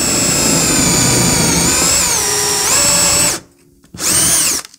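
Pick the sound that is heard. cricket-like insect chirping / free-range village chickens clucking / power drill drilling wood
power drill drilling wood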